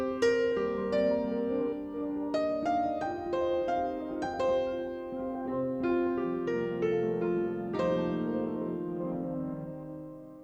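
Piano notes fed through three pitched granular delays on the Autochroma, one an octave up and one an octave down, with clear struck tones ringing into shimmering, overlapping tails, heard alone without talk.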